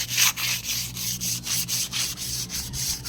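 Steady back-and-forth sanding strokes with abrasive paper on a water buffalo horn, a close, rhythmic rasping repeated about twice per second, with no voices.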